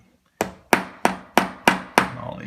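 A hammer taps screws into drywall while mounting mini blinds: six sharp, close knocks in a steady rhythm, each ringing out briefly, with no talking.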